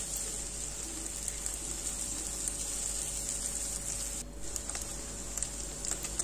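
Chicken sausage noodles fry in a pan, a soft, constant sizzle and crackle holding steady at low level, with a short dip partway through and no talking.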